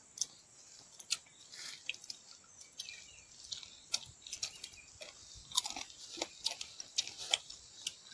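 Someone eating rice while camping out in the forest, faint close-up chewing with soft irregular clicks and crunches spread through a quiet background.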